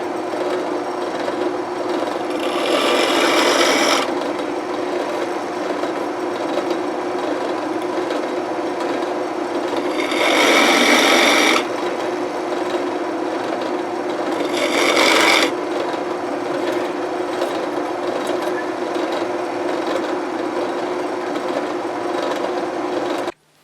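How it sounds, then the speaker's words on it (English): Three separate bursts of rough grinding as a large drill bit shaves away material from a 1924 Radiola UZ 1325 horn speaker, each a few seconds long, over a constant motor hum. "use a large drill head and shave that off so I can pop it out"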